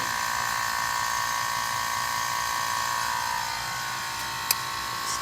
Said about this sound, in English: All right, got our vacuum pump hooked up.